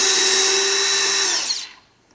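A power drill spins at a steady high pitch for over a second removing screws from a 1999–2004 Ford Mustang GT door, then winds down and stops, leaving near silence.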